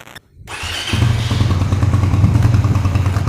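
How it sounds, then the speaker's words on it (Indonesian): A Suzuki Satria FU fuel-injected motorcycle starts after a short crank, then settles into a steady, loud, close idle. "nyalakan mesinnya ya"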